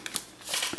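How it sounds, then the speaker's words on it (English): Lo Scarabeo tarot deck being shuffled, a soft papery riffle of cards building into a brief, close flutter in a quiet room. "it's a low Scarabeo deck, and it does shuffle quite nicely"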